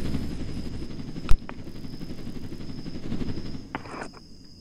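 Helicopter in the Roblox game Jailbreak with a steady, whirring rotor and engine drone, a sharp click early on, and a few brief sounds near the end.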